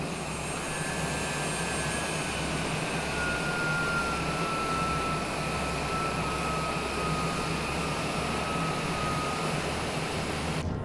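Steady jet engine roar inside the cockpit of a Cessna Citation Longitude on approach with landing gear lowered, a continuous loud broadband hum with a faint high whine and low rumble throughout, no voices.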